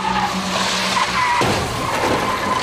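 Tires screech loudly as several cars skid during a multi-vehicle freeway pileup, a sustained squeal that shifts into a rougher, broader scraping roar partway through.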